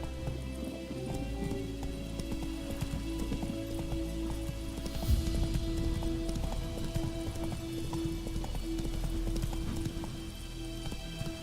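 Hooves clip-clop steadily in a quick galloping rhythm as a horse runs in The Witcher 3 video game, the beat continuous and close over a soft background bed, with one brief louder thump midway.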